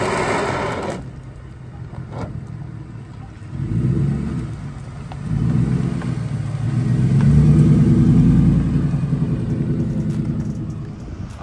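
Ford F150 pickup truck engine rumbling and revving up in swells, a steady low mid-range drone that builds louder toward the end, with no talking.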